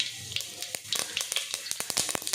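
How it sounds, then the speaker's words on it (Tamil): Mustard seeds crackle and pop in two spoons of hot oil in a pot while tempering, giving a quick run of sharp, close snaps over a soft sizzle. "2 கரண்டி எண்ணெய், கடுகு போட்டுக்கிறேன்."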